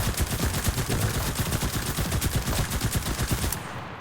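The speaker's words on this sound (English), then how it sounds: "now I'm going to demonstrate the absolute joke of how good this MP40 is" MP40 submachine gun in Enlisted firing one long, steady burst of rapid, loud shots for about three and a half seconds before stopping.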